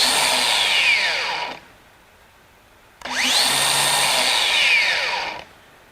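A DeWalt DCG418 FlexVolt cordless angle grinder whines loudly at full speed, then its electronic brake brings the wheel to a quick falling stop within about a second; the cycle repeats twice, close up.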